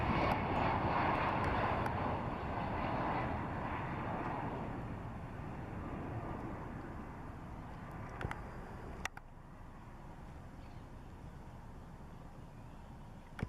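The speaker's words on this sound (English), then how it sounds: "This Boeing 767 was landing at an airport in Brazil, but came in low and almost hit the mountain wall" A Boeing 767 airliner comes in low on approach near a mountain wall at a Brazilian airport, a loud sustained jet engine roar that slowly fades over several seconds, with a couple of sharp clicks near the end.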